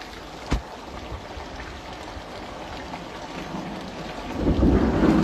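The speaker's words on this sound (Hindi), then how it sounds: "हम लोग को पता नहीं था कि इतना बारिश हो जाएगा" Heavy rain pours steadily in a continuous hiss, with a sharp crack of thunder early on and a deeper rumbling swell building toward the end.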